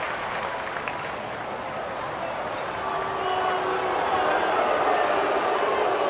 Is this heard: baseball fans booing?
yes